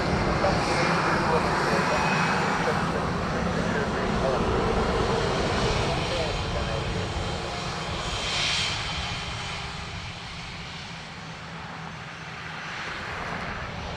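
Ryanair jet airliner from Manchester arriving at Dublin Airport, a continuous engine roar that swells and then fades, with voices chatting over it.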